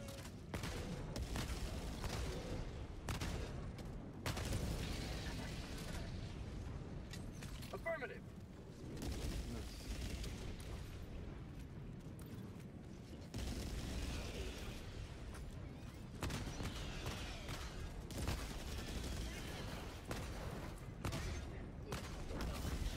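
Bursts of video game gunfire crack and pop in irregular volleys, mixed with radio callouts and players talking throughout.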